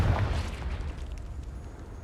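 A Confringo spell blasts in a Hogwarts video game, a deep rumbling burst at the start that decays into a broad, steady roar.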